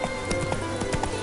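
Geralt's horse Roach gallops in The Witcher 3 on PS5, its hooves beating a steady, rhythmic clip-clop that stays close and loud across a low, busy game background.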